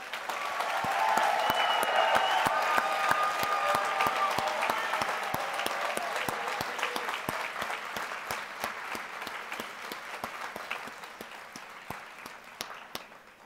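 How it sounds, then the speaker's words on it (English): Loud, sustained applause from a large crowd at a law school commencement, dense clapping that slowly thins and fades toward the end. "give this class a long overdue round of applause yet again."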